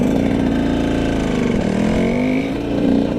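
Motorcycle engine running steadily during a wheelie attempt, a close, loud mid-pitched drone that dips slightly near the end before rising again.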